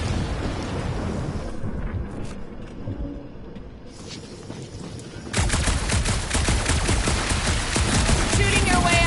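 Gunfire erupts in the video game Marvel's Guardians of the Galaxy, starting as scattered, rumbling shots and explosions and then breaking into rapid, loud bursts of blaster fire that continue densely to the end.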